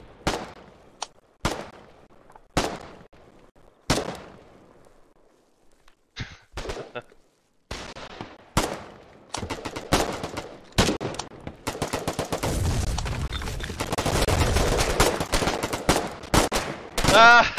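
Video game gunfire: single shots at first, then rapid bursts thicken into dense, sustained automatic fire with explosive crashes, loud and close, with occasional breathy voice sounds between volleys.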